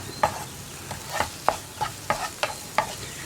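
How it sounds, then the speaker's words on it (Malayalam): Green gram and drumstick leaves stir-fried with salted beaten egg on high flame, an undertone of sizzle punctuated by about eight evenly spaced spatula scrapes and taps against the pan, close and without voices. "ഉപ്പ് ചേർത്തൊന്ന് ഇളക്കിയിട്ട് ഹൈ ഫ്ലെയിമിലേക്ക് ആക്കി വയ്ക്കുക."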